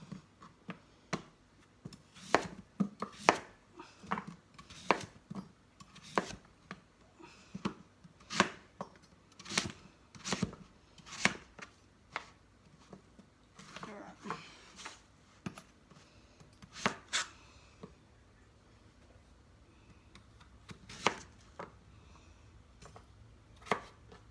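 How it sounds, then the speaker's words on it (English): A knife chops a pumpkin into smaller chunks on a board. The blade strikes come in close, irregular bursts of crisp thuds, dozens of them, with brief pauses between, and there is no talking. "So I'm going to again cut this into smaller chunks."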